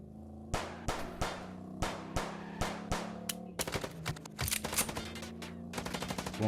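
Gunshots in the video game Chicken Police, a series of sharp evenly spaced single shots followed by a denser rapid burst of fire, loud and close with no talking.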